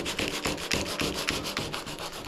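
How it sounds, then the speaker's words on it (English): Rhythmic hand sanding of fiberglass resin on a surfboard repair, a gritty back-and-forth rasp repeating in quick strokes, close up with no talking. "I'm just gonna start sanding here"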